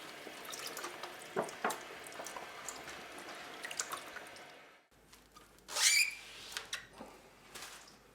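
Water splashes and drips as a cyanotype print gets its final rinse, with scattered trickles and small splashes, a brief pause, then a louder gush of running water near the middle.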